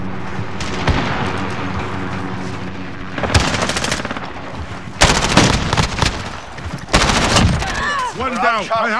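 Automatic weapon fire in a tactical shooter video game, loud sustained bursts of rapid rattling shots in several volleys, with voices and game radio chatter heard between and under them.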